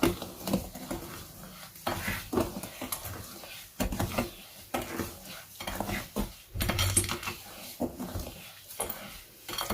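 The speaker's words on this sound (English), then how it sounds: "I just added in the papaya extract and we'll mix it together" A papaya fruit acid body scrub stirred in a bowl, with irregular scraping and clinking of a utensil against the dish in uneven bursts, close and moderately quiet.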